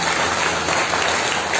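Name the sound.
congregation clapping in church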